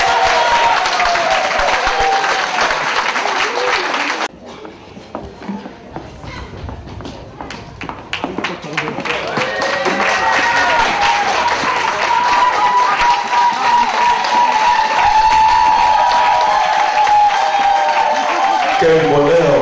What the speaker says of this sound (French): Nous les applaudissons encore très fort parce que c'est très magnifique.